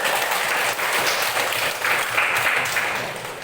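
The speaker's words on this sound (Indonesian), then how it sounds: "tepuk tangan dulu." Sustained applause from a group of students in a classroom, a dense, steady wash of many hands clapping at once with no voices standing out.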